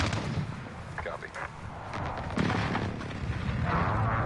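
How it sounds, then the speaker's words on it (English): A precision airstrike in Call of Duty Modern Warfare hits with a continuous rumble of heavy booms and blasts, loud and layered, with a radio-style game voice heard briefly over the explosions. "Enemy precision airstrike, take cover."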